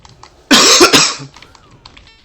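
A single loud, close cough, a harsh burst with a second rasping push, from a player during a World of Warcraft Wrath of the Lich King session, followed by quiet.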